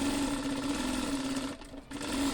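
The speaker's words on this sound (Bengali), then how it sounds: "আমরা ডবল সেলাই দেব" A sewing machine runs close by in a continuous whirring hum while double-stitching a six-panel petticoat, pausing briefly before resuming.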